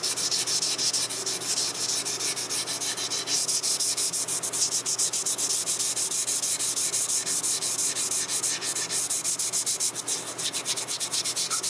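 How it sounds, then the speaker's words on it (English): Steady, vigorous rubbing on maple wood stained with tannic acid and iron nitrate, a continuous close scratchy sanding sound with quick repeated strokes and no voices. "we're gonna get a little more aggressive and start rubbing this back a little harder"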